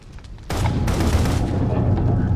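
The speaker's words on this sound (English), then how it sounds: "Before their bullets reach you, Nightingale pushes you into the elevator" Rioters fire guns in the video game Path to Nowhere, a sudden loud barrage that starts abruptly and keeps going as dense, sustained gunfire with booming low rumble.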